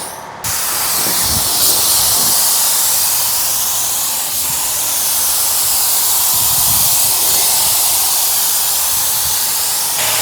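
A spray gun lays a second coat of epoxy primer onto bare metal of a 1970 LTD under restoration, producing a loud, continuous close-up hiss that runs unbroken for about ten seconds.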